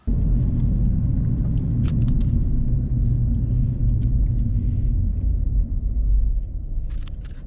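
Interior of a 2007 Jeep Grand Cherokee driving: a steady low engine and road rumble with faint ticks and rattles, continuous and close, no talk.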